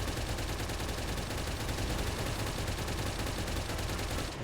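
Continuous dense gunfire in the video game Palworld, a steady unbroken rattle of rapid shots held at the same level throughout, loud and close with no talk.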